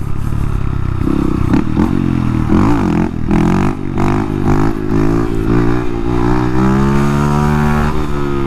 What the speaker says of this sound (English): Let's see if I can do a little wheelie here for y'all.